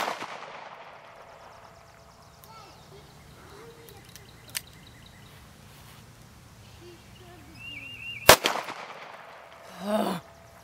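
A revolver loaded with standard 125 grain target rounds fires at a bottle outdoors: one sharp loud report stands out against a quiet background with faint bird chirps, an earlier light click, and a brief voice afterward.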